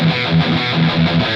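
An electric guitar plays a metal preset with gate, drive, delay and reverb, giving a loud, heavily distorted, sustained tone with a few chugging note changes and no voices.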